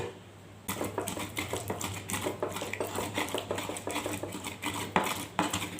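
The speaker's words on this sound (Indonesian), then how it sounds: "di dalam proses melembutkan bumbu ini boleh menggunakan blender atau dengan cobek seperti ini" Spices such as turmeric, ginger and nutmeg pounded and ground in a stone cobek mortar for soto ayam, a brisk run of sharp clacking strikes and scrapes, close and steady, alone without talk.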